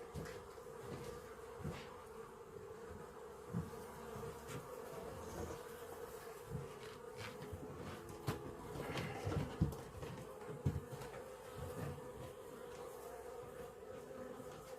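Steady, dense buzzing of many honey bees at a hive, a continuous drone close by with occasional louder passes, and no voices.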